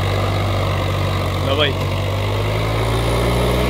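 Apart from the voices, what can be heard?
tractor engine running in high gear during harrow test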